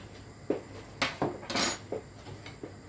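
A spoon scraping and knocking in a pan of chilli con carne as ground cumin is stirred in, with several distinct clinks and scrapes, close and clear, no talking.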